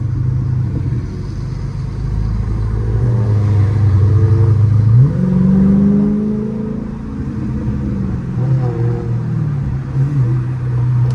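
A big-bodied Dodge Durango engine revs in traffic, a deep rumbling drone climbing and dropping through several throttle swells, the loudest pull near the middle, with no voices.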